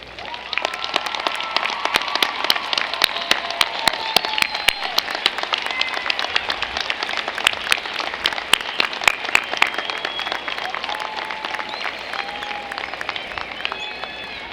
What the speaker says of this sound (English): will you please stand now for a well-deserved round of applause from us